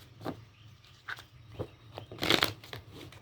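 Quiet, close card shuffling in short papery bursts, with a louder riffle near the end against a faint low hum.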